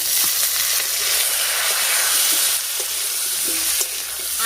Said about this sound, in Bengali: আলু আর এঁচড় একসঙ্গে করে ভেজে নেব।